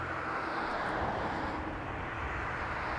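A Pilatus PC-12 turboprop comes in to land at Toronto Pearson Airport at night, a steady, fairly distant broadband roar that holds evenly throughout without speech.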